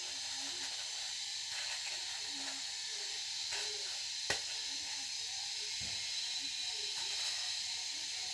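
Fish coated in Bombay rava fries on a tawa with a soft, constant hiss of oil, accompanied by a few faint clicks and taps from the pan.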